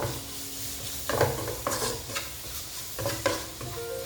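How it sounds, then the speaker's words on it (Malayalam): Sliced onions sauté with salt and turmeric in a pan for chicken thoran, giving a steady sizzle broken by repeated scraping stir strokes, close and fairly loud. "ഇത് ഇത്രയും കൂടി ഇട്ട് നല്ലതായിട്ട് വഴറ്റണം. നല്ലതായിട്ട് സവോള വഴണ്ട് വരണം."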